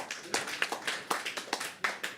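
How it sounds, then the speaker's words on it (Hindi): Sparse, quiet clapping from a small audience at a poetry performance, a dozen or so separate claps in an irregular rhythm, fairly distant and soft. "एक बार याह्या के लिए जोरदार तालियां दोस्तों"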